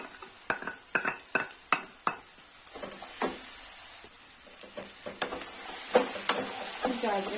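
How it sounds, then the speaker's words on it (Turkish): Vegetables sizzle steadily in a pot while a utensil scrapes and clinks against it in irregular strokes, close up and fairly quiet. "karıştırıyorum"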